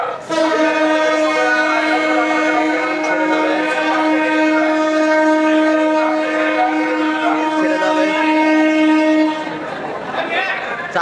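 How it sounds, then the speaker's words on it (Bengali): A train pulls out of an old British-era platform station at night with crowds around, its horn sounding one long, loud, steady blast for about nine seconds before fading into lower rumbling. "এই যে ট্রেন এখনই ছেড়ে যাচ্ছে, দেখুন কি অবস্থা, কিভাবে ট্রেনটি চলে যাচ্ছে"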